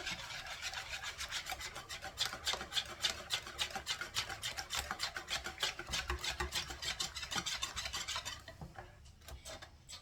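Apricot flan batter whisked in a bowl, a rapid steady rasping scrape of utensil against the bowl repeating for about eight seconds before slowing and fading, close and alone without talk.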